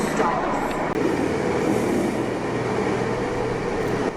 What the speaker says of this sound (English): My train.